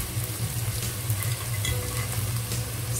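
Whole spices such as cardamom seeds, cinnamon sticks and bay leaves sizzle steadily in a pan of hot oil for chicken kabsa, with light stirring scrapes over a continuous close-up frying hiss, no speech.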